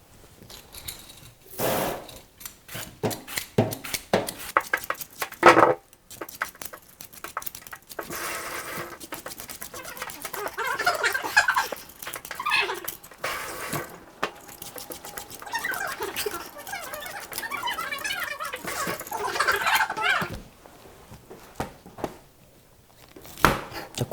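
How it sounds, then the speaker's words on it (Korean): Knife cutting peeled sweet potato into small cubes on a board, a run of close, irregular chopping taps and clicks with short pauses between bursts, no talking. "고구마 껍질을 제거해 주시고 깍둑썰기로 네모나게 썰어 주시고요"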